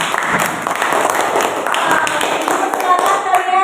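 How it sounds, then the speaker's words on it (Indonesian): Classroom of students clapping together for their project groups, brisk dense applause up close with voices mixed in throughout. "kita tepuk tangan kepada kelompok 1"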